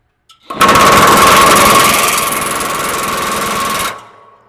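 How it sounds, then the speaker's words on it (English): A power drill or impact driver tightens the blade nut on a Cub Cadet Ultima ZT1 zero-turn mower, one loud close burst of buzzing rattling power lasting about three seconds before winding down. "Flip your drill back to forward."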